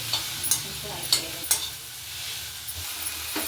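Kebabs sizzle in a pan while a spatula scrapes and clicks against it at irregular moments, close and clear with no voices.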